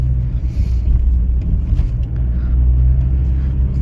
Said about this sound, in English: The exhaust is too loud. It's way too loud.